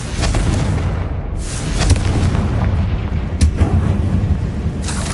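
A Confringo explosive spell goes off in Hogwarts Legacy as a loud, sustained booming blast with a thick low rumble and repeated crackling bursts layered on top throughout.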